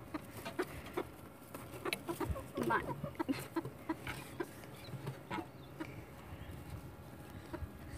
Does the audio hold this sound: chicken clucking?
yes